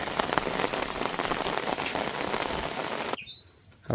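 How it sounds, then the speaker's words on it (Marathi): Heavy rain pours down in a dense, loud hiss of drops on surfaces, then cuts off abruptly near the end. "जोरात आला पाऊस जोरात"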